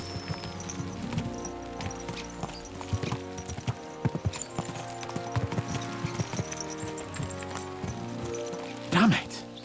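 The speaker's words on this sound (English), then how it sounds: "Let's really spur these horses on, eh?" Horses' hooves clip-clop at a steady pace in the medieval game Kingdom Come: Deliverance 2, under a voice, with music and ambient game sound running throughout.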